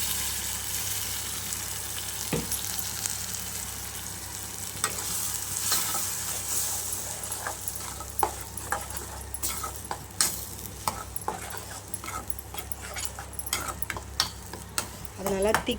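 Masala with tomato paste fries and is stirred in a pan: a continuous bright sizzle with frequent clicking utensil scrapes and taps, close and loud, growing busier toward the end, with no talk.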